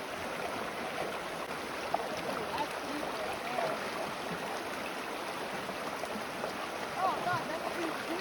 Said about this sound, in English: this river's kind of scary. It's like pretty deep and pretty fast moving.